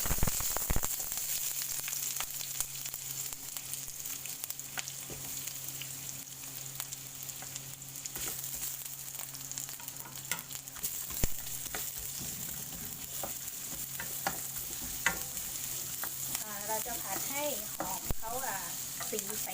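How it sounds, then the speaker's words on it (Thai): Onion fries in oil in a pan, a steady close sizzle with frequent clicks and scrapes of stirring throughout, quite faint overall, with occasional brief speech. "ใส่หอมหัวใหญ่ไปก่อนเลยนะ"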